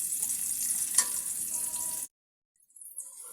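Chopped onions frying in a pan for beef rezala, a loud steady close sizzle that cuts off abruptly, then returns faintly after a short silence.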